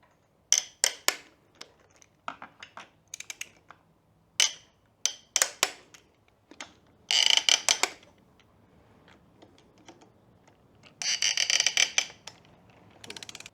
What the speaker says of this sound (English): Got my torque wrench set to 18 foot-pounds or 25 newton meters of torque.